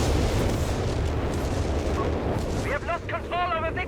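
Whiz-bang rocket artillery in Company of Heroes 3 pounds a North African area with a rumbling barrage of booming explosions, fading as a voice comes in over it.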